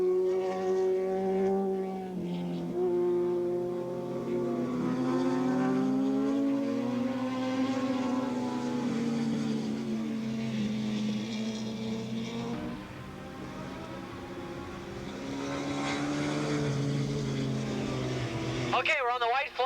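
Kawasaki road-racing motorcycles, 750cc modified production class, scream around Willow Springs International Raceway in 1986 as engine whines rise and fall continuously in the distance under an announcer's ongoing commentary.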